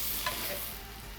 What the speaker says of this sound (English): We're gonna let this all saute together for just about 2 minutes.